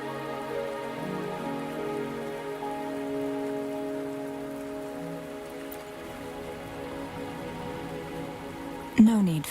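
Rain falls in the video game Wuthering Waves, a soft continuous patter spread evenly across the scene beneath sustained tonal background music, with a brief louder clatter near the end.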